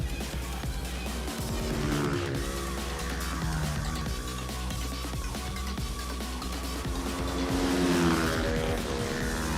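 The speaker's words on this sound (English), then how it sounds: "the Tracker 250cc motorcycles" Tracker 250cc motorcycles race on a circuit at a championship round, engines buzzing and rising in pitch as they rev and pass, a dense continuous roar of several bikes at once with no voices.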